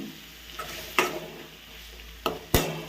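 Tomatoes frying in a pan are stirred with a spatula, making several scraping clacks over a soft steady sizzle, close and without speech.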